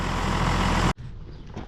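A tractor engine running loud and steady up close, then cutting off abruptly partway through, leaving a quieter, faint background rumble.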